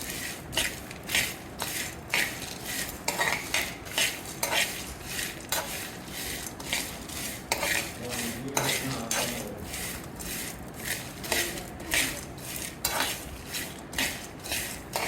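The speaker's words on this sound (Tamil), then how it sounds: "இப்போ எள்ளு கொஞ்சம் எடுத்துக்கலாம் இதையும் நம்ம நல்லா வறுத்துக்கலாம்" Sesame seeds being dry roasted in a pan, with rapid repeated metallic scraping and stirring strokes of a spoon against the pan in a steady rhythm, close and clear, with no talk.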